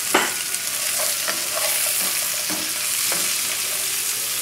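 Green pepper and scallion sizzle in a hot pan while being prepared for rack of lamb, a bright continuous frying hiss broken by several scraping stirs, close and fairly loud.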